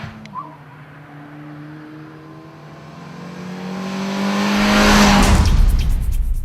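A Suzuki Swift Sport's 1.6-litre M16A engine with variable valve timing and a five-speed manual revs while driving, its tone climbing steadily to a loud, strained peak near the end before dropping away, with no talking.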